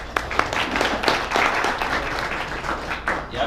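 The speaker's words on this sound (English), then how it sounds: "Round of applause for that." An audience at a Power Circle presentation applauds for several seconds with dense, moderately loud clapping. It holds steady from start to finish with a little voice sound mixed in.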